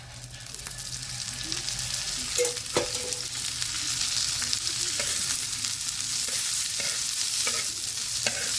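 Poppy seeds and spices roasting in hot oil in a pan, a continuous close sizzle with intermittent scraping and stirring knocks of a spoon against the pan, no talk.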